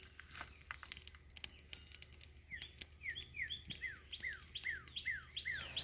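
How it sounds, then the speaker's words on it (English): Birds chirp and tweet outdoors, with a repeated descending call among scattered quieter chirps, fairly faint over a low background hum. "And the damn birds, y'all hear them?"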